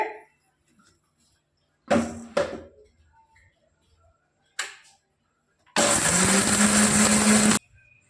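A kitchen mixer grinds salt with dried raw mango into powder, a few short bursts followed by a sustained loud whirring run of about two seconds, close by, with no talking.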